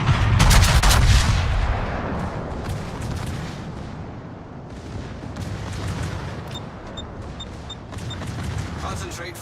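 Naval gunfire in World of Warships, heavy cannon booms opening loudly and then rolling into a sustained rumble of distant shots and blasts, with short chimes near the end and a voice speaking over it.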